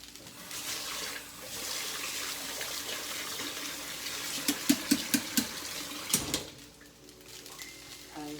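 Water runs steadily from a tap while food is washed under it for a Chinese beef and black bean meal. The flow splashes and gushes, with a short run of hollow knocks and a thud near the end.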